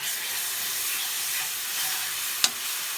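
Pepper paste and spices fry in olive oil with a steady close sizzle that carries through, broken once near the end by a single sharp knock.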